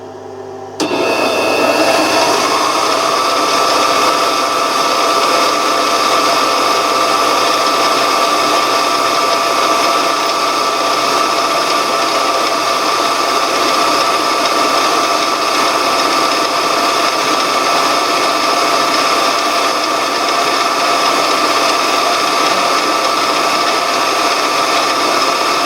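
A power drill bores with a brand new number 50 bit during an Onan CK fuel pump repair, a loud sustained whining motor drone that starts abruptly and holds steady, close and alone.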